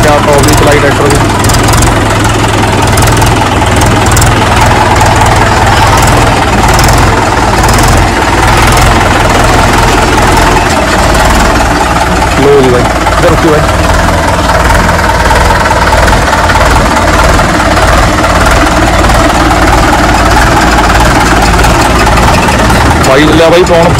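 A 575 tractor engine idles with a steady low diesel rumble and rhythmic knocking, loud and close, while someone talks over it.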